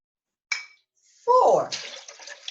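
Water poured into a jug already holding squash, a steady splashing pour that builds after a short clink, loud and close, fading into trickling at the end.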